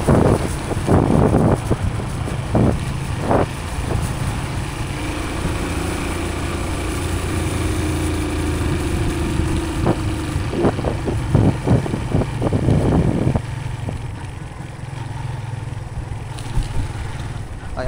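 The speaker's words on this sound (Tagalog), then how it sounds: "Kaya yung takbo ng motor medyo ano pa, magaspang." Motorcycle on the move with a low engine rumble beneath steady wind buffeting on the microphone, punctuated by a few louder gusts and bumps, fairly constant throughout.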